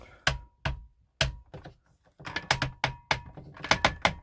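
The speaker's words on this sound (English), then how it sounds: "Shoulders up here also will turn, and they have a nice loud ratchet." Ratcheting shoulder joints on a Transformers War for Cybertron Siege Omega Supreme toy figure, giving loud, sharp plastic clicks close up, first a few spaced single clicks, then a denser run of rapid clicking.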